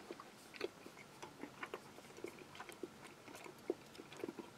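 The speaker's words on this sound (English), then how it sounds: "You do need teeth to chew it, but not in a heavy way, just a gentle chewing and the meat falls to pieces." Someone chews a British Army ration of sweet and sour chicken up close with quiet, soft, wet bites and small crunches, repeating irregularly at a gentle pace with no talking.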